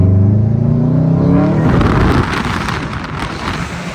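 A 2006 Subaru WRX STI engine revs hard, loud and close, then settles into a steady rumbling roar, with no talking.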